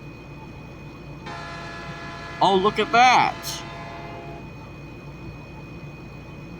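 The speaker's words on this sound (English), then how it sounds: "That is another train coming." In a train simulator game, another GEVO freight train passes with a sustained horn chord that swells into loud bursts midway, over a steady engine rumble; a voice exclaims briefly during the horn.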